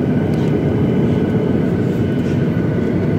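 Inside an airplane cabin on a five-hour flight to Boston, a loud, steady engine drone and air rush fill the space evenly with no breaks and no voices.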